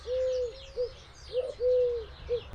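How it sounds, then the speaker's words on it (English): Wood pigeon or collared dove cooing in a garden or park: soft, hollow low coos in a short repeated phrase, moderately distant, over faint background birdsong and ambient hiss. "they've both got that kind of really stereotypical cooing thing going on"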